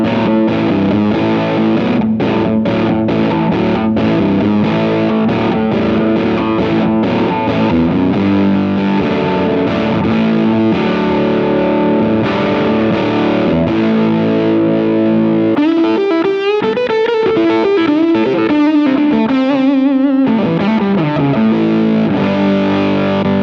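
Distorted electric guitar through a treble-booster style pedal on its full-range boost setting, playing sustained chords and riffs with a brief single-note melodic run, loud and continuous throughout with no talking.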